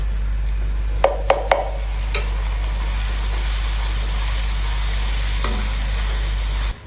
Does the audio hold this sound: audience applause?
no